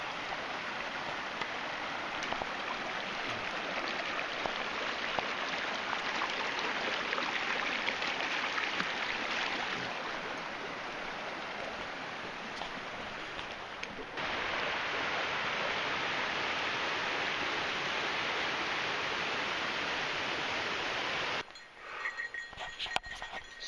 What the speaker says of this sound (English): Got another creek crossing already